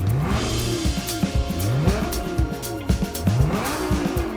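Lamborghini Gallardo with a 5-litre V10 and four-wheel drive in Gran Turismo 7, engine rising and falling through repeated revs and gear changes, with tyre squeal and skidding, loud and close throughout.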